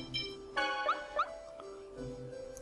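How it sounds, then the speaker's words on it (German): A dog in the Tales of Symphonia video game gives a few short, whiny yips and barks, close and clear, over steady game music. "Hier ist ein Hund."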